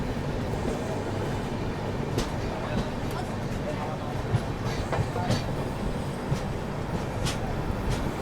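The Andhra Pradesh Express between Visakhapatnam and Secunderabad rolls slowly along the rails, heard from inside as a steady broad rumble with faint periodic clicks of the wheels.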